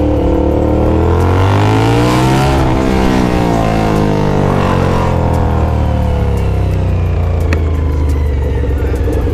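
A small motorcycle engine revs up loudly, its pitch rising steadily as it accelerates close by, then holds a high buzzing drone.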